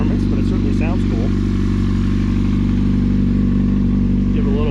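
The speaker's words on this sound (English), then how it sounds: "give it a little gentle rev here" A cold Yamaha motorcycle engine with an aftermarket exhaust pipe idles steadily and is given a gentle rev, its low rumble loud and continuous throughout, while someone talks over it.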